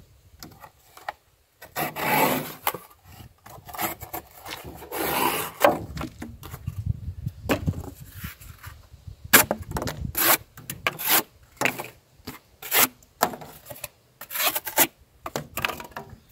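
A Kizer Towser K knife cuts wood in repeated scraping, rasping strokes, some long and some short, close by with brief pauses between cuts.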